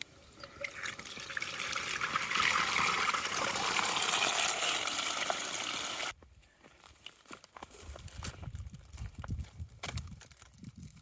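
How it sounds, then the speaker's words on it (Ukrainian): Stream water being scooped into a container for filtering on a backpacking trip in Big Sur: steady close rushing and pouring for several seconds, then quieter splashing, dripping and gurgling, with no voices. "Будемо набирати воду, яку ми будемо фільтрувати."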